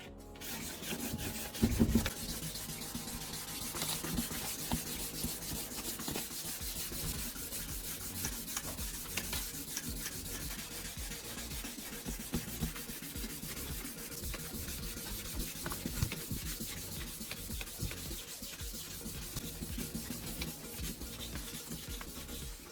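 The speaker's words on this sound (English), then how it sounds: "800 grit sandpaper is used to work the surface evenly" Steady, continuous rubbing of 800-grit sandpaper against a plastic car headlight lens, a close, dense abrasive rasp that keeps going without pause.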